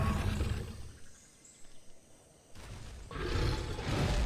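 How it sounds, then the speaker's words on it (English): Acrocanthosaurus roar in Primal Carnage: Extinction, a loud rumbling bellow that fades briefly, then swells back into a long, heavy, full-bodied roar. "That's what the roar sounds like."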